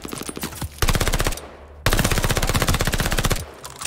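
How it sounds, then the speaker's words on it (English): Rapid automatic gunfire in the Call of Duty Vanguard campaign from a hard-recoiling weapon, two long loud sustained bursts with a short break between them. "this gun has a lot of recoil"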